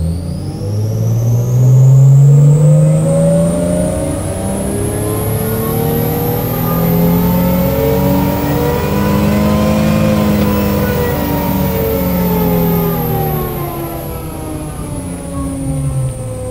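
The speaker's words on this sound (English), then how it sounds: "Right, we'll just go through to full throttle, fourth gear," A car engine roars at full throttle in fourth gear on a dyno ramp run, its pitch climbing steadily over many seconds, loud and close with a high whine rising alongside.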